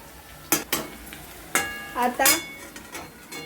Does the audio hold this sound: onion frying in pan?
yes